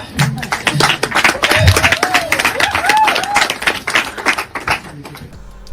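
An audience of women applauding, a dense, steady patter of many hands clapping at close range, with some crowd noise mixed in.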